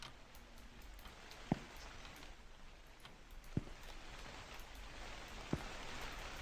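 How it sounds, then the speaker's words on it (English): Steady rain in a night-shift convenience store horror game, a soft continuous hiss with three sharp ticks spaced a couple of seconds apart, quiet and alone. "Oh, it's raining."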